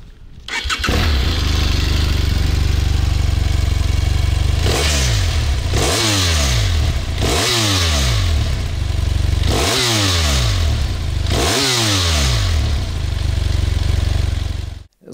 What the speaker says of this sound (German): Das Motorrad klingt ein bisschen blechern.